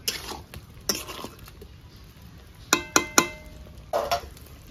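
Potatoes being stirred in a pan for a home-style fish curry with small carp and taro, giving a soft frying hiss under sharp metallic scrapes and clinks of a spatula, a few distinct strikes close by.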